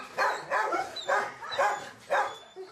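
Dogs at a shelter in France barking in a quick series of five or six sharp barks, fairly near and alone with no talk.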